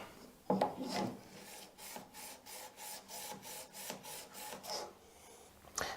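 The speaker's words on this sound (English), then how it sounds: "So my preference would be to use a bench stone. So let's keep it flat." A flat-edged blade is rubbed back and forth on a bench stone, giving a steady run of about a dozen rhythmic rasping strokes, close and fairly quiet, with no talking.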